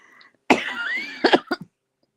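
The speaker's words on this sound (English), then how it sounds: "This cough is it's going to kill me." A person coughs hard several times in a quick cluster, close and loud, after a brief moment of quiet.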